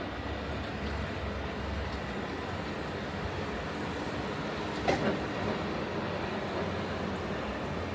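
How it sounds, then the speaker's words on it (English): Walt Disney World monorail train rolling past at the Magic Kingdom, heard as a continuous rumbling, whooshing drone with a faint metallic clack partway through, all under open outdoor ambience. "There goes the monorail."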